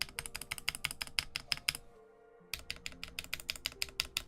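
Unlubed stabilizers on a QK Alice Duo mechanical keyboard, close, rapid clacking keystrokes in a quick steady rhythm, a brief pause, then more clacking, with no voices.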